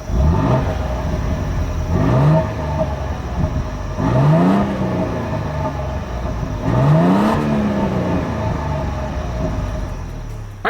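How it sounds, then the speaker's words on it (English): A 2026 Toyota Tundra 1794 Edition pickup repeatedly revs, its exhaust rising in pitch in three or four separate pulls with a steady idle drone between them, loud and close with no talking. "As always, here is that exhaust clip."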